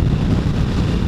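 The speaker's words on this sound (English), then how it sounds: "It's kind of nice, a little windy out" Wind rumbles steadily against the microphone during a bike ride in a brief, dense, low-pitched roar with no other sounds.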